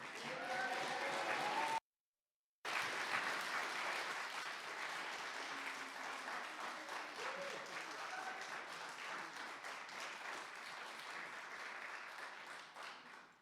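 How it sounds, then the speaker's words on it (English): Applause ripples through the public gallery and chamber during a full meeting of Thurrock Council, a long, even round of clapping that holds steady at moderate, slightly distant volume before tapering off, broken by one brief gap of silence. "Whilst I'm sure the Leader of the Council appreciates a round of applause every time he stands up"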